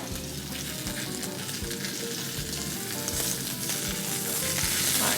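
Whole green peppers sizzle and crackle steadily in a hot pan, a dense, continuous frying hiss with faint clicks, growing slightly louder toward the end, no voices.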